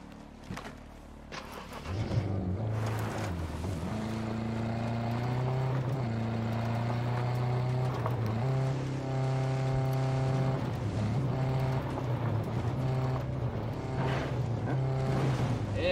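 Vehicle engine in the video game Ghost Recon, a steady motor drone that revs up and shifts pitch repeatedly while driving, close and continuous with no talk.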